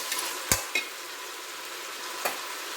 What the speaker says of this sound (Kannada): ಈಗ ಪುದೀನ ಕೊತ್ತಂಬರಿ ಸೊಪ್ಪು ಹಾಕ್ತಾಯಿದ್ದೀನಿ.